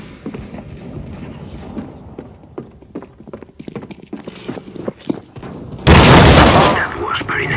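Sawed-off shotgun fire in the video game CS:GO: scattered light thumps and clicks, then a single loud, close, broadband blast that rings on to the end, with voices faintly present.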